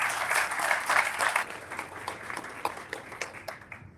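Applause from an audience at a Utah County Commission candidate debate, a steady crowd clapping that swells early and then thins out, with scattered individual claps near the end.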